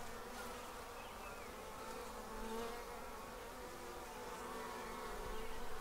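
Honey bees buzz continuously inside an observation hive, a dense, steady drone close to the microphone with no voices.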